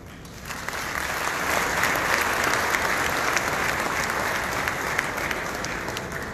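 At the 2019 National Industrialists' Convention in Mexico, a large audience breaks into applause that starts quickly and holds as a dense, even roar of clapping hands for several seconds.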